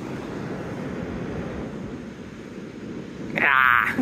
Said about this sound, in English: you can actually hear the ocean